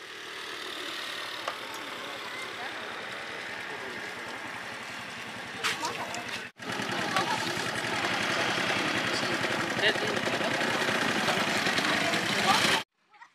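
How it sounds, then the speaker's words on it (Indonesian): A large passenger speedboat with four engines idles in a steady, moderately loud drone, broken by a brief cut midway and stopping near the end. "speedboat yang aku naiki ini memiliki kapasitas yang lebih besar, bahkan menggunakan 4 mesin sebagai penggerak"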